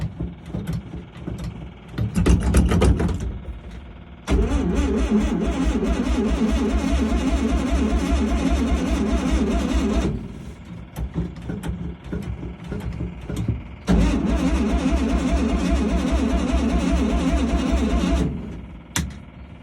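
An engine's first start of the season after its fuel pump has been primed: it catches after a brief burst, then runs loud and steady for several seconds, drops away, and roars again for another long stretch.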